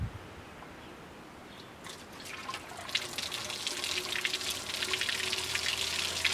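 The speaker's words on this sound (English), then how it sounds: "Now we're going to pour the water in there because this works on mass." Water is poured into a rainwater-powered generator built around a bell siphon, starting faint and growing into a steady, loud rushing splash that continues to the end.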